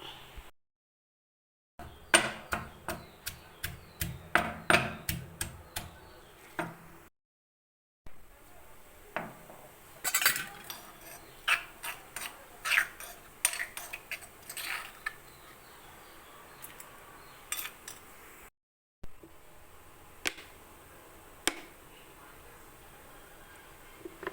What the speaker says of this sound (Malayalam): ഉള്ളി ഇട്ട് കൊടുത്തു ഇനി ഇത് നമുക്ക് ചതച്ചെടുക്കാം